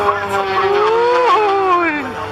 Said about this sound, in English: Lycoming Thunderbolt I-0580 engine Extremely fast